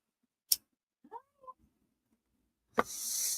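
A house cat gives a short, faint meow indoors, set between a sharp knock and a louder burst of rustling noise.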